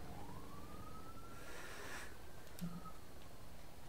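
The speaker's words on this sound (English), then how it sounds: "I think this siren's a lot more annoying than the other one." A faint wailing emergency vehicle siren in the video game Blackout sweeps up and down in the distance, thin and steady over a dense background hum.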